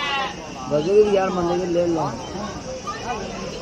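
Rams bleating at a crowded livestock market ahead of Bakrid, several drawn-out, wavering bleats close by over a low murmur of the crowd and voices.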